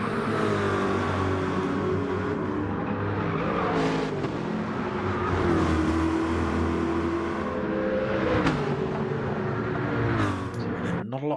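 Race cars in a racing video game rev and accelerate at the start of a race, engines rising and falling in a dense, continuous roar with several cars audible together.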